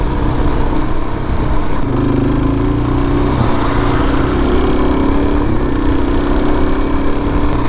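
A Suzuki DRZ400 motorcycle rides along on an errand, its single-cylinder engine droning loud and close, with a shift in pitch as it picks up speed.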